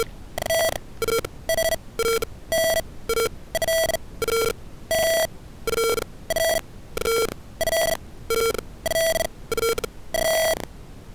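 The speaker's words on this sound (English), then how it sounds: "this irritating buzzer will keep ringing" A repeating electronic buzzer alarm from an automated Covid-19 screening machine, triggered by a high temperature reading, sounds in steady pulsed bursts, loud and insistent throughout, with no voices.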